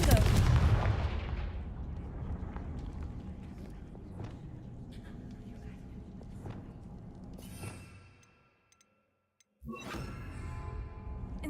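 A Confringo spell cast in Hogwarts Legacy bursts out as a loud, explosive blast, then fades into a rumbling tail and drops to near silence. Another sharp burst of game sound follows.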